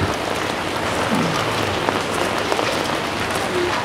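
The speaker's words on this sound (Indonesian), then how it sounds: "Hujannya cukup deras." Heavy rain pours steadily in a town street near a railway station, a dense, even hiss throughout with faint distant traffic beneath.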